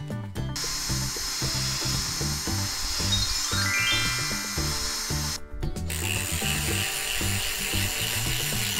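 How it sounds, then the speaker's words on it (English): A power drill bores holes with bursts of whirring motor and grinding bit against the workpiece, loud and close, with short pauses between passes. "This is the drill bit for drilling the holes."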